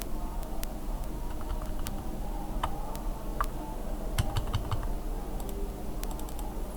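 Keyboard shortcut keys clicking on a computer keyboard, a scattering of light, separate taps over a steady low room hum with no talking.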